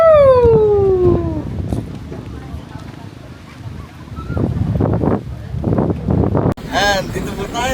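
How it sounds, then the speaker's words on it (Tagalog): Gusty wind buffets the microphone in low rumbling bursts at Tanawan Falls, Dingalan, Aurora, with a voice calling out at the start and people talking over the roar. "Lakas ng hangin."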